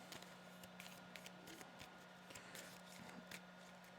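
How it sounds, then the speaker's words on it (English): Quiet, rapid riffling of cards in short bursts during a Captain America and Hawkeye versus Crossbones game, with soft flicks and taps over a low steady hum. "Let's give these a shuffle quickly."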